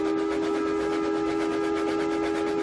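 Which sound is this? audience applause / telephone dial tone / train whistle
train whistle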